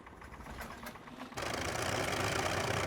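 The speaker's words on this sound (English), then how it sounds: "you can hear it's kind of a tinny sounding engine" A Ryan ST-A aircraft engine in a flight video game catches after start and settles into a tinny, buzzing idle, faint and uneven at first, then jumping to a louder, steady drone.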